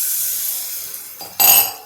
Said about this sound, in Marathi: आता आपण पाणी टाकणार आहोत